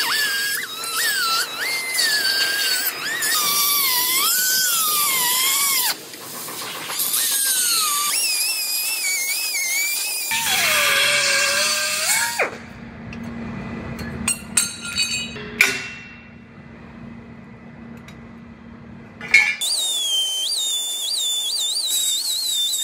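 A cutoff wheel trims a crossmember off a Jeep frame, its high whine rising and dipping in pitch as it bites into the steel, with pauses, clinks and a deeper grinding pass between cuts.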